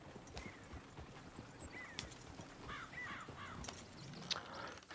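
Horse hooves clip-clopping in Red Dead Redemption 2, quiet irregular hoofbeats mixed with crow caws and a faint whinny in an outdoor game scene.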